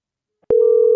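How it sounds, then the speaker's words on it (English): Half a second of silence, then a steady electronic telephone ringing tone starts on a cell phone and holds, clear and close. "it's ringing on my cell phone right now"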